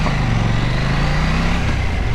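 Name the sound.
KTM 790 Duke motorcycle engine running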